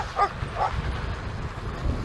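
A dog gives a few short, moderately close barks and yips during an electric folding fat-bike ride, over steady low wind and road rumble, with no one talking.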